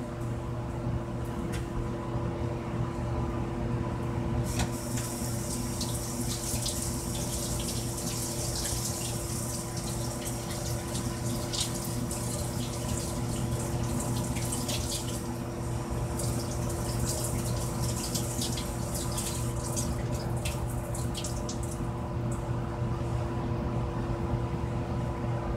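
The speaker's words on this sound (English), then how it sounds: "I'm over at the sink rinsing this out so it'll flow for me" Water runs steadily from a tap into a sink while a strainer is rinsed out, a continuous close hiss and splash that holds evenly for the whole stretch and brightens with spattering partway through, with no talking.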